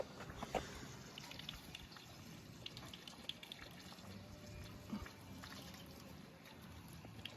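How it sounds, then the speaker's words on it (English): Water trickling and dribbling from a small leak in a home-brewing hose, a faint, steady wet patter with a few soft drips, heard close up and alone. "So I got a little tiny leak right here."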